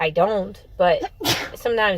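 A single sharp sneeze bursts out close and loud in the middle of a conversation, with someone talking just before and after it.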